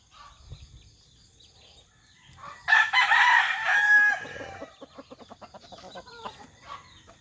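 A rooster crows loudly and close by, followed by a run of rhythmic clucking from chickens over a quiet background.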